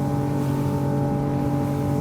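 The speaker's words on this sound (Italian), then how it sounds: "sentiamo come salgono i giri del motore" A Ranieri International 275 SL motorboat engine droning loudly and steadily at high revs, around 5800 rpm at 39 knots, close by, with a constant hum and no voices.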